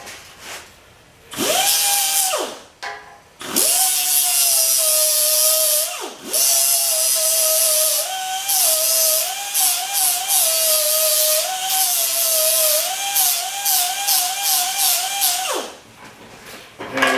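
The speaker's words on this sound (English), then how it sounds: "take my die grinder" A handheld die grinder whines loudly and steadily against a soldered bandsaw blade joint, the pitch dipping briefly as it bites and pauses between several sustained grinding passes.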